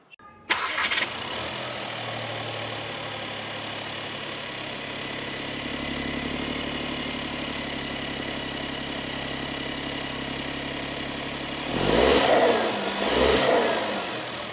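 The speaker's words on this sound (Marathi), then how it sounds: "हे अशा प्रकारे इंजिन आहे. आता हे स्टार्ट करून बघूयात आपण." A Škoda Kylaq's engine cranks and fires up, then settles into a steady, even idle, with a couple of brief revs swelling near the end.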